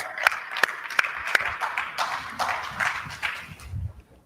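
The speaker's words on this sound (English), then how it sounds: "Please give him a warm applause" Applause from an audience at a business conference talk welcomes a speaker to the stage, with several sharp, loud claps standing out early before the clapping thins and fades.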